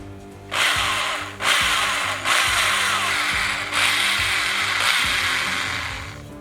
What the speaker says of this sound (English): Now I need to drill one pretty much straight up and down,